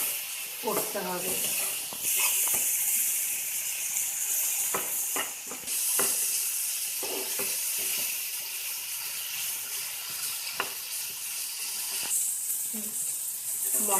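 Broadband sizzle and hiss of prawn curry spices as a little water is poured in, with scattered clinks and stirring under brief talk.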